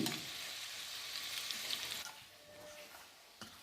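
Pakoras fry in hot oil in a home kitchen, a close, dense sizzle that is loud at first and then eases into a softer bubbling hiss with a few small pops.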